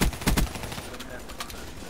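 Video-game gunfire aimed at a robot: a few loud rapid bursts in the first half-second, then fainter scattered shots under a busy, noisy mix.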